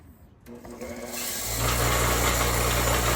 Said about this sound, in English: You guys don't need to sit there and watch us grind it.